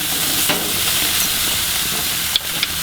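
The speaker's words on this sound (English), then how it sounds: "Pick up a grill basket so you can make these type of vegetables on the grill" Vegetables sizzle in a grill basket over a grill, a continuous loud hiss close up with a few faint clicks near the end and no talking.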